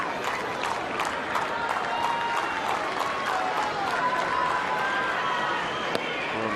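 Tennis spectators at the 2004 Rome semifinal applaud steadily, a dense, sustained wash of clapping from a large crowd with a few sharper individual claps standing out, continuous throughout.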